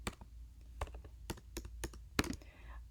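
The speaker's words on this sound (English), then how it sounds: "you'll begin typing out your essay" Someone typing out an essay on a computer keyboard, with a series of crisp, irregular key clicks in short bursts and a heavier keystroke near the end, close and fairly quiet against a low hum.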